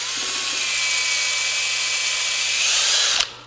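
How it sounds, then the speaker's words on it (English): Power drill boring holes in a junkyard florist workshop, a steady high whine running nearly continuously for several seconds before cutting off abruptly near the end. "just let's keep drilling the"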